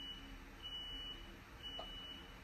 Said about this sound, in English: It is an alarm that went off.